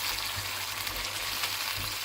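Mutton with turmeric, salt and spices frying in a pot for a handi dish gives a steady close hiss and sizzle, with faint stirring knocks underneath and no talk.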